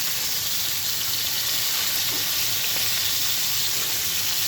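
Pieces of pigeon meat fry lightly in a pan for a Pakistani-style bhuna, giving a dense, continuous hiss and sizzle at steady loudness with no pauses or voices.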